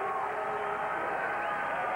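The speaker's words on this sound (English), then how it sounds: "Listen to the crowd and Waltrip with his hand in the air." A large crowd cheers at Brickyard 400 pole qualifying, a dense, steady roar of many voices heard at a distance without a break.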